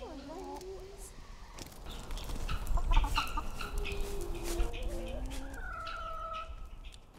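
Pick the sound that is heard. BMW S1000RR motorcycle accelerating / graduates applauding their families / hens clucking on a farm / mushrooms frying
hens clucking on a farm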